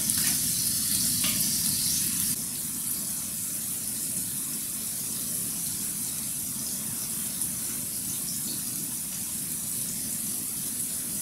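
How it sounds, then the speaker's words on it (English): Seafood and prawns in a paella pan give a steady bubbling sizzle, with a louder burst at the start before the sound settles into an even, moderate simmer. "As you can see, the seafood's cooking nicely. We've got a nice bubble going on."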